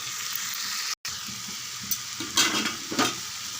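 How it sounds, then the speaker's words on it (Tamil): Drumstick pieces sauté in hot oil in a pan, a steady close sizzle with a few louder stirring scrapes late on and one brief dropout. "நம்ம முருங்கைக்காய் எடுத்து வச்சுருக்கோம் இல்லையா, இதை அப்படியே சேர்த்து ஒரு 2 நிமிஷம் நல்லா வதக்கி விட்டுடலாம்"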